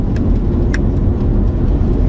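Hyundai Santa Fe 3.3 picking up speed on cruise control, a steady low engine and road rumble from inside the cabin, even and continuous with no talk.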